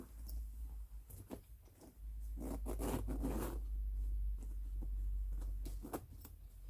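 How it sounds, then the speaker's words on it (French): An old garment's zipper being worked by hand, a series of short scratchy zipping strokes close up, some quick and clustered, one longer pull near the middle, with no talking. "La fermeture éclair est impeccable."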